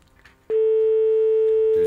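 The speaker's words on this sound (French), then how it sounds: "Deuxième sonnerie." A telephone line tone during a radio call-in prize draw, one loud steady electronic tone starting abruptly and holding alone.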